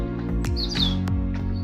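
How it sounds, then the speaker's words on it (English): Birds sing in Brockadale Woods near Wentbridge, a few bright chirps and a clear whistled phrase heard over a steady low hum, with no talking. "Birds are singing."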